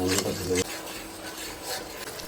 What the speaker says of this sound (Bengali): মশলাটা ভালোভাবে কষিয়ে নিতে হবে